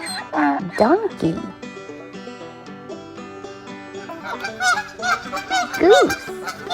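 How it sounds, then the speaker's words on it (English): Repeated goose honks, loud and close, sound in bursts at the start and again near the end, set over continuous background music in a children's farm-animal quiz. "Goose."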